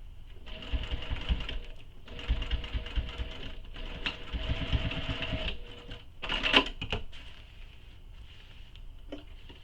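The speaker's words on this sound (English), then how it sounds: "now we're going to sew this using the seam allowance given in the pattern" Home sewing machine stitching the seam of a commuter tote bag, running in several steady whirring bursts with short pauses between, close and moderately loud, with a brief clatter near the end.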